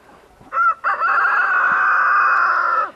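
A rooster with a blue-green tail crows once, loud and close, a short rising note followed by a long sustained call.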